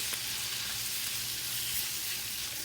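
Garlic shrimp fry in hot oil over high heat, giving a dense, steady hiss and crackle that stays even and close for the whole stretch, with no talking.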